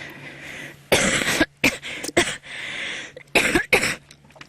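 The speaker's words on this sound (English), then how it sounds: "I'm sorry, and my hacking cough." A run of harsh, hacking coughs in several bursts, loud and close, separated by brief pauses, with no talking.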